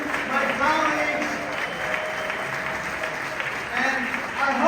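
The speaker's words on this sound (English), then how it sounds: "can you give a big round of applause again to Belle, the leadership?" An audience at a DNC AAPI Caucus event applauds steadily, a dense wash of clapping that lasts throughout and swells near the end, with a voice speaking over it.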